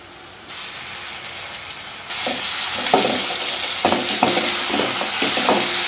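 Onions frying in a pan with ginger-garlic paste: steady broadband sizzle that grows louder partway through, with scattered stirring scrapes and clicks, close and alone without talk.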